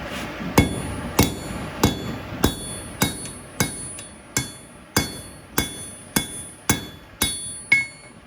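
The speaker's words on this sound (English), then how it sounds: "And then we'll rivet them." A rivet is hammered into forged steel box jaw tongs at a blacksmith's anvil. About thirteen sharp, ringing metallic blows fall at a steady, even pace, close and loud.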